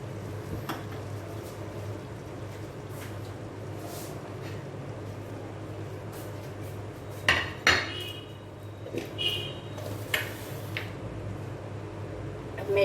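Spicy chicken fry being served from a pan onto a dish at home: scattered metal spoon scrapes and clinks against cookware, a few sharper knocks near the end, over a steady low kitchen hum.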